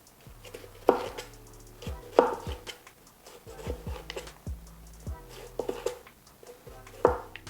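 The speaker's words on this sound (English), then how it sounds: "Lastly, our Scotch bonnet pepper. Just gonna chop those into same circles." A knife slices a Scotch bonnet pepper into rings on a cutting board, with irregular close taps and thuds amid soft kitchen clatter and low background hum.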